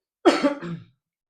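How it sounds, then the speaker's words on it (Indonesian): A single short, close cough, loud and abrupt, followed by silence. "Sorry gue batuk dulu."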